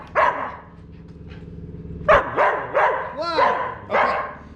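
A dog barks loudly and close by, with one bark, a short pause, then a quick run of four sharp barks and yips.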